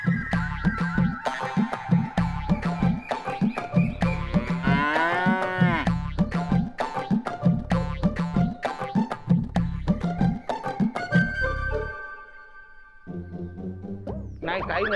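Buffalo at a farm in a Marathi TV comedy gives loud, drawn-out moos, heard close, with other rhythmic sounds layered around them.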